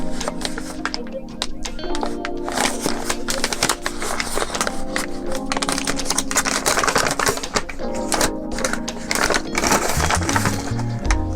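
Paper packaging from a 1970 Swedish military medical kit being handled, with dense crisp crinkling and rustling punctuated by sharp clicks and taps, close and continuous, with a bit of faint talk beneath.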